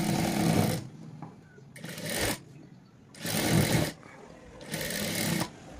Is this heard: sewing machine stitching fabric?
yes